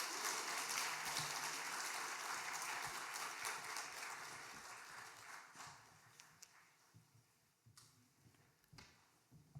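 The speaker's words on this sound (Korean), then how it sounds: "우리 박수로 환영하겠습니다" A church congregation at a mission Sunday service claps in welcome, a steady wash of applause that gradually thins and fades to scattered claps by the end.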